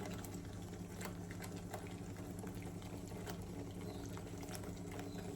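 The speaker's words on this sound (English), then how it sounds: "the gravy is cooking well." Constant low bubbling and sizzling of butter chicken gravy cooking in a pan, steady and fairly faint with tiny pops scattered throughout.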